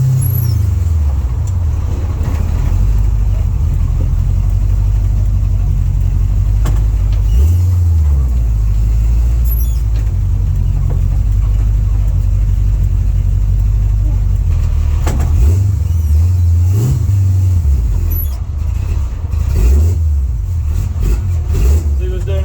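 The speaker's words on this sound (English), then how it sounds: "There, it's basically running out of gas." A car engine with a hot blower sputters and cuts out as it runs out of gas, its rough uneven idle dipping and surging loudly up close while someone talks over it.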